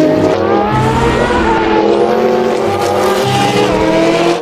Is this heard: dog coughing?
no